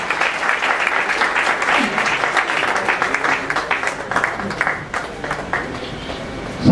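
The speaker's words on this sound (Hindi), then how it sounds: "दोस्तों इन लोगों के लिए तालियां बजा दें।" An audience at a company award ceremony claps for the recipients, a sustained, fairly loud round of applause that thins toward the end.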